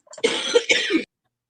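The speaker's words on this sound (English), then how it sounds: "Cough like vampires, y'all." A couple of rough, hacking coughs in close succession, loud and near, with no talking.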